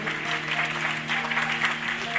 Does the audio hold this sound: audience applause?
yes